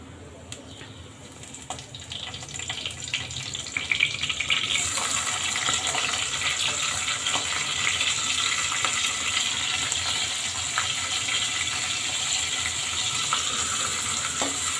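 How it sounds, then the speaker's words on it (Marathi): Onion and curry leaves fry in hot oil over cumin seeds, a steady broadband sizzle that rises sharply after a few seconds and holds loud and continuous with faint scraping, no voices. "कांदा आपला जर आपण तांबूस करून घेऊ."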